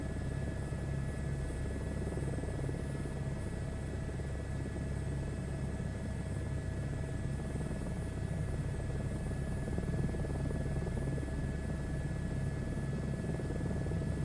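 An aircraft in Microsoft Flight Simulator 2024 drones with a steady, unbroken engine rumble and faint high tones, even in loudness throughout with no talk.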